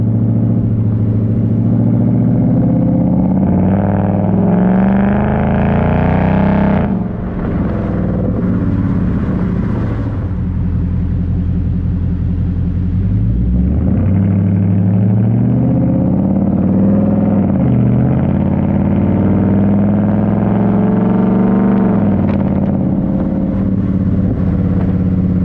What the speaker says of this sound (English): We're going to see some exhaust just right now in a couple seconds.